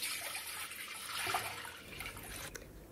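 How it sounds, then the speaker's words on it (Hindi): About a litre of water pours into a cooking pot while making carrot kanji, a close, steady splashing rush that fades after a few seconds, with no talking. "और पानी को इस भगौने में डालेंगे"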